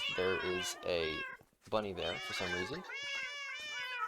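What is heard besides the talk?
cats meowing in Minecraft video game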